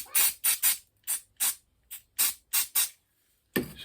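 A series of short, sharp aerosol brake cleaner spray bursts, about nine quick hissing puffs in an uneven rhythm, followed by a longer spray at the end.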